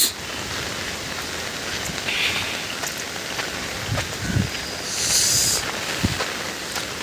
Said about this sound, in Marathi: पाऊस पाऊस पाऊसच पाऊस